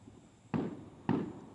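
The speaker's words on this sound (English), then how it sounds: "There's fucking fireworks going on over there." Fireworks go off in the distance, two separate muffled bangs about half a second apart, each fading quickly against a quiet background.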